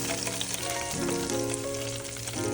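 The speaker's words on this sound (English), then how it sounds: "And we're gonna go ahead and get to frying." Coated keto chicken wings bubble and sizzle steadily in a deep fryer, a dense continuous frying hiss close up with no voices.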